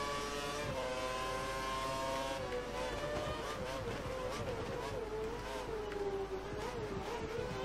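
Formula 1 car engine at full revs in the F1 2013 racing game, Malaysian Grand Prix, a steady high-pitched whine that holds and shifts pitch throughout, with a commentator's voice faintly mixed in.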